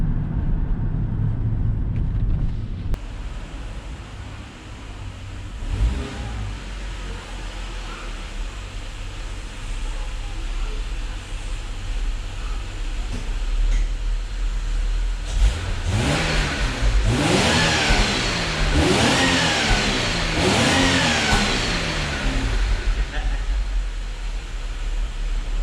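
A Holden VY V6 Storm sedan engine idles with a low, even rumble before a series of sharp revs climbs and falls repeatedly, loud and close.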